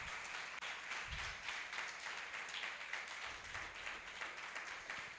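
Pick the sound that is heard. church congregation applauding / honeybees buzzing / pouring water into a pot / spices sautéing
church congregation applauding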